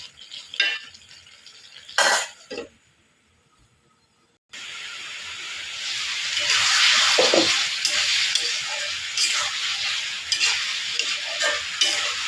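Masala and vegetables frying in a curry pan: a few sharp stirring clatters, a brief lull, then a loud, broad, hissing sizzle that swells and holds steady with occasional scrapes, no talking.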